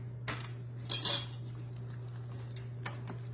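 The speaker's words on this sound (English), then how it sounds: "Let's stir this thing." A spoon stirs taco seasoning through a one-pan dinner, scraping and clinking against the pan in a few short bursts over a steady low background hum.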